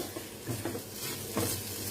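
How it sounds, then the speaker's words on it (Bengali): An egg is stirred while frying in a pan, scrambled into crumbly bits, giving a steady close sizzle with a few scraping stir strokes. "এভাবে ডিমটাকে আস্তে আস্তে আমরা নাড়াচাড়া করতে করতে ঠিক এরকমই পর্যায়ে নিয়ে আসব"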